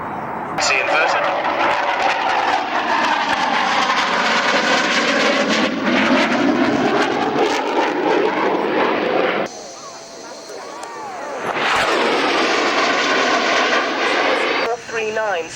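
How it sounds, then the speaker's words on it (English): Red Arrows aerobatic jets roar loudly overhead at a 1998 air show, a sustained sweeping engine noise with Doppler-like pitch shifts, easing briefly before another pass surges back, with an announcer talking over it. "We'll now bring the aircraft round through about 270 degrees, heading now towards us."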